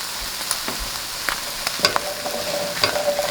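Cranberries with cardamom blister in a hot pan, giving a steady soft sizzle broken by scattered small pops and crackles, close and moderately quiet, with no talking.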